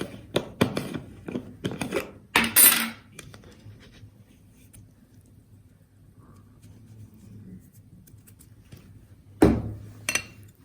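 Guacamole being mixed with salt and pepper in a bowl, with a cluster of close scraping and tapping strokes at the start, a quieter stretch, then another brief burst of mixing near the end.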